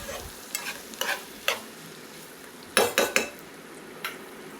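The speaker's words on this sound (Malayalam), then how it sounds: "ആ അണ്ടിപ്പരിപ്പും ഇട്ട് കൊടുത്തിട്ട് നമുക്ക് നന്നായി ഒന്ന് വഴറ്റിയെടുക്കാം" Cashews are sautéed in a pan for butter chicken over a soft sizzle, with a series of sharp spatula scrapes and clinks against the pan, several grouped close together, all close by and without talk.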